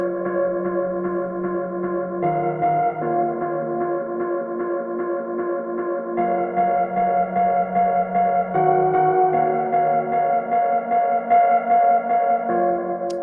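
An aggressive, strident synth lead in tape mode plays a melody alone, hitting a note on every beat in stepped phrases, bright and buzzy with distortion.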